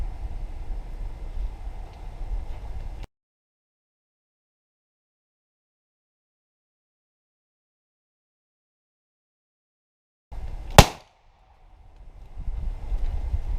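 An S&W 460V revolver fires a single round through a half-inch plywood sheet outdoors: one sharp, loud report after a stretch of silence, with wind noise before and after.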